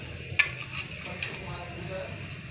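Potato strips frying in hot oil for homemade french fries, with a soft continuous sizzle, a couple of sharp clinks and stirring noises from a utensil in the pan, heard up close with no speech.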